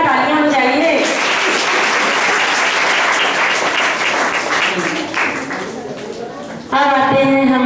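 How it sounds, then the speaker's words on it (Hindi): Loud, dense applause from an audience at a Goonj 2016 success party, swelling for several seconds before a voice speaks over the dying claps at the end. "जोरदार तालियां बजाइए।"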